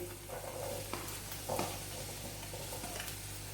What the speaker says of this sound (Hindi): अब मैं वेजिटेबल्स 1 बाय 1 इसमें ऐड करूंगी।